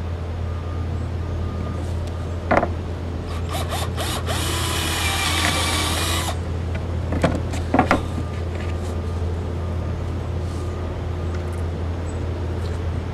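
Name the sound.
power drill drilling a hole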